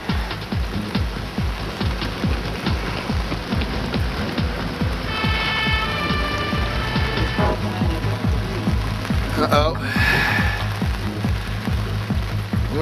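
Steady rain patters densely on a surface during a storm at Port Davey, Tasmania, loud and continuous, with a brief squeak and passing vehicle rumble partway through.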